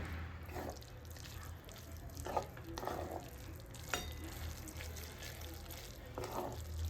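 Maggi noodles with grated Amul cheese stirred in a pan: faint, quiet scraping and sticky stirring with occasional soft clicks, under a muffled background hum and possible low voices.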